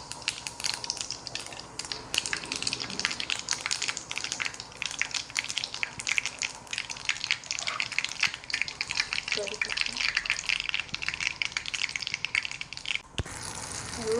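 Cumin and mustard seeds sizzle and crackle in hot oil, with garlic and ginger already in the pan, a busy close frying hiss with scattered pops and stirring throughout.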